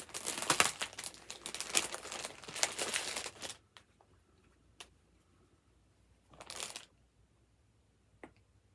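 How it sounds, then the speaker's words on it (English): Loud, close crinkling of plastic packaging as a fabric club parcel is opened, dense rustling bursts for a few seconds, then quiet with a short burst of crinkling and a few faint ticks. "Sorry for the crinkling, but I'm going to open it up to show you"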